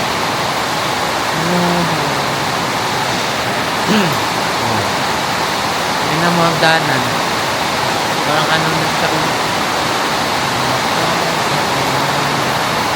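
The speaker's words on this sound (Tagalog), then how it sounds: "So guys, ang lakas ng ulan." Heavy rain roars as a steady, dense hiss, while a person speaks intermittently over it.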